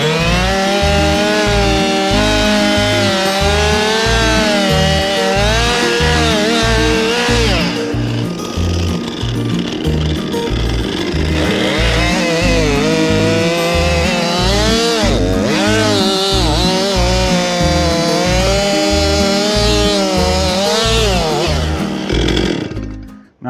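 A freshly sharpened chainsaw cuts wood on a farm. The engine roars loudly and continuously, with repeated rhythmic pulses and the pitch dipping and rising under load.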